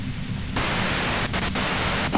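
Loud, steady white-noise static from a radio in Disco Elysium, hissing alone with no voices and only a few brief dips in intensity.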